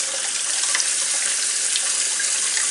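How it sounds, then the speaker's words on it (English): Cold water pours steadily into a jug while making sweet tea, a continuous splashing stream, close and loud, with no talking. "I'm going to go ahead and add the cold water here"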